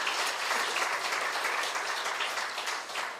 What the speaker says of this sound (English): so a round of applause to all of us